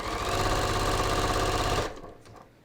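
A sewing machine stitches a back tack on pants, its needle hammering in a fast, steady mechanical rhythm for just under two seconds before stopping abruptly, leaving a faint hum.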